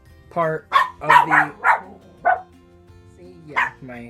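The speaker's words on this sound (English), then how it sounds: "That was my dog" A family dog barks in a quick run of loud, close yaps, overlapping a person who is talking.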